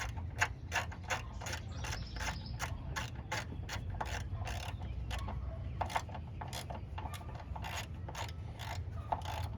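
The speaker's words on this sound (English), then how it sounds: "And then we just tighten our bolt back up here." A ratchet clicks in a steady run of sharp, close ticks, tightening an 18 mm bolt on the oil filter housing of a 2007 Cadillac DTS, with no talking throughout.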